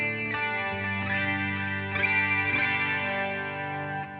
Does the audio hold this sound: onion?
no